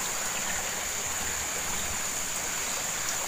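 A small river at night flows with a constant, even rushing wash at moderate level, while a steady high insect-like whine sits above it and no one speaks.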